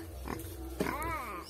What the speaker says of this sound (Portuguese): Olha o porco ali doido pra comer guabiraba também